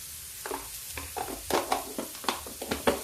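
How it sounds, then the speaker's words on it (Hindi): Spicy cabbage and peas sabzi frying in a pan, with a series of scraping spatula strokes over a soft, steady sizzle, close and fairly quiet. "सब्जी देखिए करीब करीब काफ़ी भून चुकी है।"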